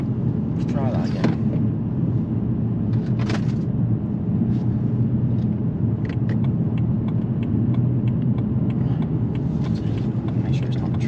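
A car with a suspected gearbox fault rumbles through its engine, bogging down and then surging, a low uneven drone with a few mechanical knocks, heard under people talking inside the car.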